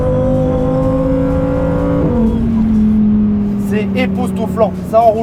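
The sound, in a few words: V10 sports car engine accelerating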